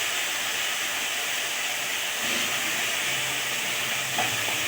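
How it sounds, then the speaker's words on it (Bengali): Capsicum and tomato fry in a pan with a steady, close sizzle and soft hiss, a few faint stirring scrapes breaking through. "ক্যাপসিকামটা টমেটোটা দিয়ে এবার ভাজবে।"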